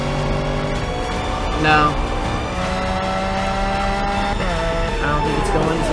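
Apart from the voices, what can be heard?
supercars drag racing, Lamborghini Aventador and McLaren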